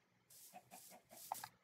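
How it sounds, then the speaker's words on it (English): Chicken clucks from the video game Minecraft, a quick series of soft, clipped clucks in a few short bursts, alone and fairly quiet. "Chicken."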